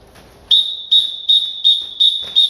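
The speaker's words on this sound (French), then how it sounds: "Et le sifflet, attention à vos oreilles," A karate referee's whistle gives six short, sharp, shrill blasts in a steady rhythm, loud and close, with only a faint murmur between them.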